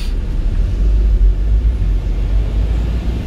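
A car engine rumbles low and steady as the driver puts it in gear and pulls away, a continuous muffled drone heard from inside the vehicle with no talking.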